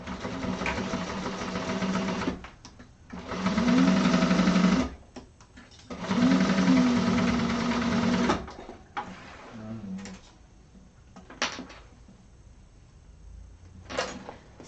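A sewing machine top-stitches a handbag lining pocket shut, running close by in three steady bursts of a few seconds each, separated by brief pauses and light handling clicks.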